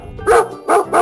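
A dog barks three times in quick succession, sharp, loud and close, each bark short with brief gaps between.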